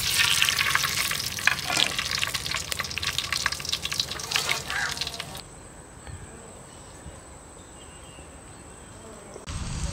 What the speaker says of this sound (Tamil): எண்ணெய் சூடாயிடுச்சு, நம்ம வெந்தயம் போட்டு தாளிச்சுக்கலாம்.